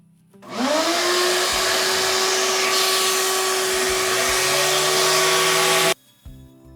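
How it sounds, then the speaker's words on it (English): A power sander fitted with 80 grit sandpaper runs on store lumber alongside a shop vacuum. A loud motor whine spins up sharply, holds a steady roar for about five seconds, then cuts off abruptly. "We're gonna put our 80 grit on the sander here."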